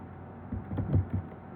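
A short burst of a few soft keystrokes on a computer keyboard, quiet and close, in a near-silent room with no voices.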